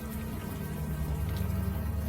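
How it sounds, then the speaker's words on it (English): Warm rain falling in the video game Unavowed, a dense continuous patter of drops, even and fairly loud throughout with no speech. "the warm rain is coming down."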